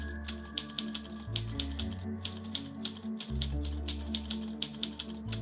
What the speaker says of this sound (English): I'll let this finish typing,